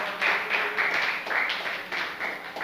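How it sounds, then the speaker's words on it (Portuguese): A church congregation claps hands in praise during a worship service, a dense, steady patter of many hands sustained throughout with bursts of swelling intensity. "Exalte o Senhor com suas palmas"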